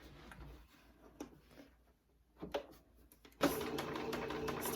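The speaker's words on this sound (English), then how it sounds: "And this is where we're going to start sewing." Sewing machine stitching fabric for a face mask, a few quiet ticking mechanical bursts, then a steady loud whirring run of stitching in the last second or so, no talk.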